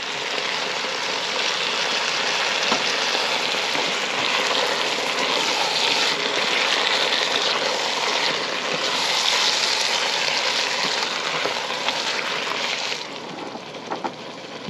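Tomato sauce and diced tomatoes going into a cooking jambalaya of lobster mushrooms give a broad, steady sizzle and hiss that lasts nearly fifteen seconds, then thins out near the end, with no talking.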